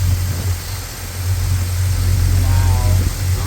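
An LS-swapped C10 truck engine running on a ride: a deep, steady low rumble close by, with a brief rise near the end and people talking over it.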